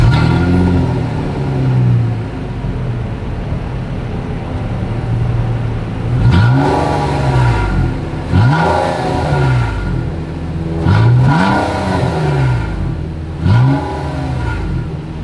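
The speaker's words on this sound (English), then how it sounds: "As always, here is that exhaust clip." A 2022 Nissan Maxima with dual exhaust and quad tips idles steadily, then revs repeatedly in several sharp bursts, each rising and falling back to idle, loud and close.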